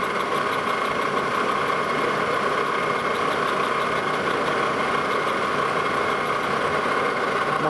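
A lathe turning a steam locomotive throttle valve, a steady mechanical whir and hum with a constant high whine, running evenly and loud without pause.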